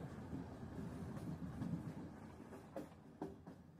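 A local train bound for Sealdah running on rails, a low steady rumble with a few soft rhythmic clacks near the end, quiet and distant.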